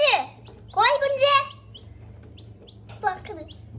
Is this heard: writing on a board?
no